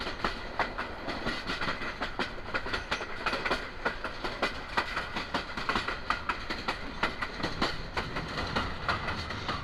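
The Teesta Express crosses a bridge over the Srutiya River, wheels striking rail joints in a steady, evenly spaced clickety-clack heard from inside the carriage, with no talking.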